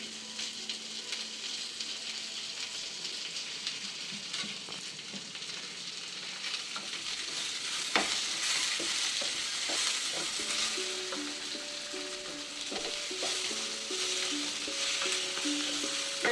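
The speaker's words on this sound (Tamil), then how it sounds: "எண்ணெயில் தக்காளி வந்து நல்லா வதங்கிடுச்சு" Tomatoes sizzling steadily in hot oil, a continuous close frying hiss with occasional stirring scrapes and faint clinks.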